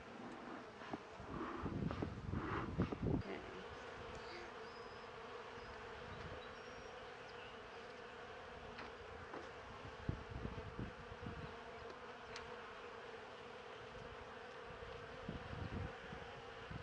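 Honey bees buzz steadily around newly set up beehives, a continuous droning hum of many insects that stays moderately loud throughout, with a few brief louder passes near the microphone and light wind in the background.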